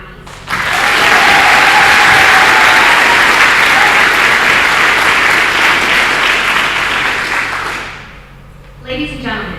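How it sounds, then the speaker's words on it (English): Sustained applause for nominees at the 59th Medical Wing Annual Awards Ceremony, a large audience clapping loudly and evenly for several seconds before fading out, after which a voice begins. "Please join me in one final round of applause for all of our 59th Medical Wing Annual Award nominees."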